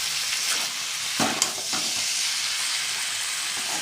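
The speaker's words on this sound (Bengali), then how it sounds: "লাল লাল হয়ে এসছে, প্রায় ভাজা হয়ে এসছে।" Chilies and lightly boiled taro stolons fry in a pan for a prawn paturi dish, giving a steady close sizzle with a couple of louder stirring scrapes, no talking.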